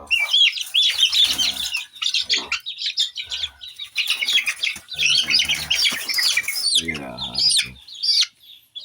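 Pet pigeons chirping and calling close by in busy overlapping bursts, with a voice speaking intermittently among the birds.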